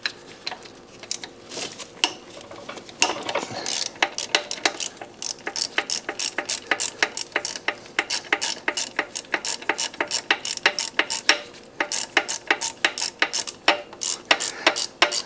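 Hand ratchet clicking while turning a fastener on a Honda engine during a VVT filter replacement, a close, fast run of sharp metallic pawl clicks in bursts with brief pauses, no voices.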